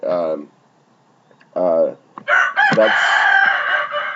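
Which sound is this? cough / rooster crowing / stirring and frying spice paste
rooster crowing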